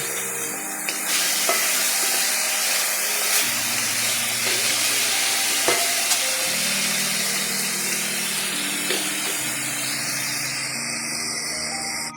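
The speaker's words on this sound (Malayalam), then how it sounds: "അരിഞ്ഞു വെച്ച 3 ചെറിയ തക്കാളി ചീനച്ചട്ടിയിലേക്ക് ഇട്ട് കൊടുക്കുന്നു" Three small chopped tomatoes sizzling in a hot frying pan while a cauliflower curry is cooked, making a steady, hissing frying noise with a low hum and a few faint clicks.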